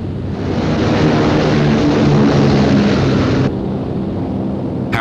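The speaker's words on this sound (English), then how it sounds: "Royal Air Force planes loaded with high explosive and incendiary bombs took off" Royal Air Force bombers loaded with high explosive and incendiary bombs take off for Hamburg in July 1943, a loud, dense propeller-engine roar that drops abruptly near the end.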